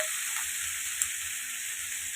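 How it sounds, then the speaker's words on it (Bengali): Rohu fish frying in a pan, a steady close hiss of hot oil continuing without break, with one small pop partway through and no voices. "এখানে হচ্ছে মাছ ভেজে নিচ্ছি, রুই মাছ"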